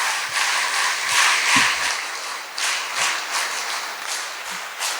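An audience applauds at a community gathering in a convention hall at Sri Kshetra Dharmasthala, a dense, sustained wash of clapping that rises and falls throughout.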